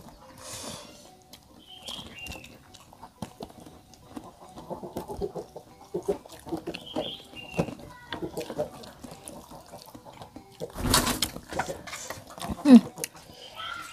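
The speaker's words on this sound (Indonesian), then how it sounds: "Ada ayam lagi beger, kakaratak terus." Chickens cluck intermittently in the background amid clattering and running water, with occasional voices nearby.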